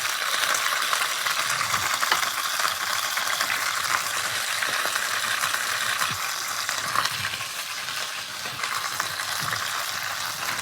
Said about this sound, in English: I want to give them a chance to start to sear.